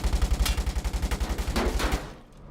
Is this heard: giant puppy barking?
no